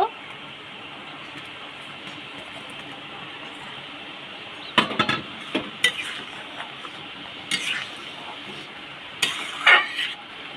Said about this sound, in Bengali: এখানে দেখো গ্রেভিটা ফুটে গেছে ভালো করে, আমি এইগুলো দিয়ে দিচ্ছি